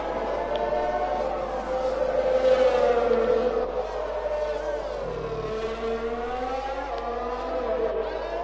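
A Williams Formula 1 car on a flying lap of the Dutch Grand Prix in an F1 racing video game, its high-revving engine whining loudly and steadily as it shifts pitch through corners, with no talk over it.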